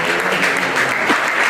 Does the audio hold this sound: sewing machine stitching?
no